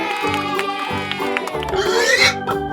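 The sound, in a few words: pig oinking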